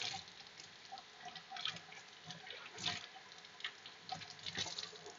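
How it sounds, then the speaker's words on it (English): Warm water runs from a tap to dampen a cleaning cloth, a steady close hiss of flowing water with small splashes and gurgles throughout, no voices. "we're just going to go ahead and dampen it with warm water"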